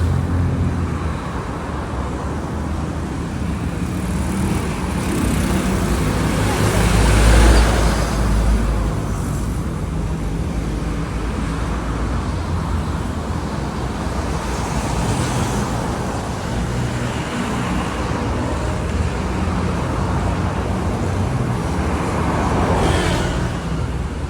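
Steady road traffic streams past on an overpass, a constant broadband wash of car and bus engines and tyre noise, with a louder vehicle swelling up close around the middle and other passes rising and fading throughout.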